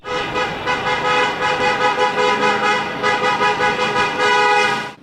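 Car horns honking in a protest motorcade of Automaidan activists in Rivne, a dense run of overlapping toots pulsing rhythmically and almost nonstop, loud and close.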